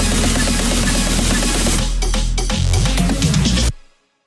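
A bass house build-up plays on its own, a dense full-band electronic mix with steady kick and rising synths, thinning out with a few stuttered hits before cutting to silence near the end.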